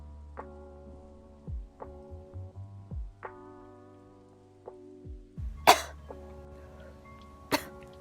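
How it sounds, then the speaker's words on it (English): Two sharp, loud coughs close by, separated by a second or two, with faint background hum and quiet room sounds before them. "I coughed up some of it."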